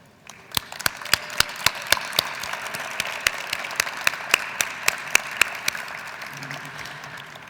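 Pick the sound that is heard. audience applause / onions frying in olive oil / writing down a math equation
audience applause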